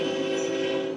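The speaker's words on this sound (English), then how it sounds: "19G with the engine honking its horn" A Norfolk Southern railway engine sounds its horn in a steady, loud, sustained blast held for the whole second, with no talk over it.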